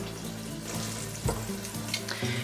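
Flour-coated squash slices fry in a pan with a dense, even crackle of hot oil at moderate volume and one brief louder scrape partway through; no talking.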